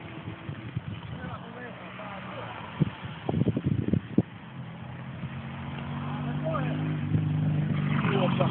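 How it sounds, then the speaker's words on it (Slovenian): An Alfa Romeo GT race car passes at a hill climb event in Gorjanci, its engine rising and fading with a short burst of revving, heard among crowd chatter and spectators talking nearby. "E, to je bil avto, una Alfa GT-ka."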